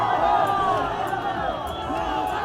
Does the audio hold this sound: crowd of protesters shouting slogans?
yes